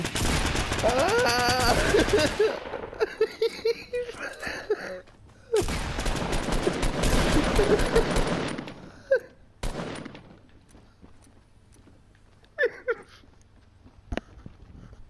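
Rapid bursts of enemy gunfire in the video game Fortnite, two long volleys followed by scattered single shots, loud and close, with a player crying out once.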